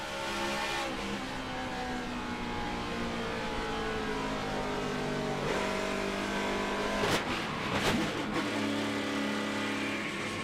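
A loud NASCAR truck engine roars continuously at full throttle during a race, with a brief shift or surge near the end, close and unbroken, no voices.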